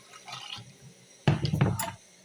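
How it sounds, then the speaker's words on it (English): Water poured into a jug, a short splashy trickle followed by a louder gushing fill that ends abruptly, close by with no talk. "The same jug, I'm going to add full water inside there."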